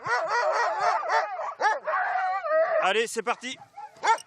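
A group of eight sled dogs, a fast long-distance breed, barks and howls excitedly before an hour-long training run, loud and close, mixed with a man calling out over them.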